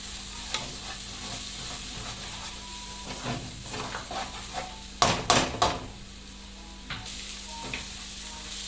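Pea nimona sizzles in a pan as a spoon stirs and scrapes it in short, irregular strokes over a soft, constant frying hiss, with a louder clattering burst midway.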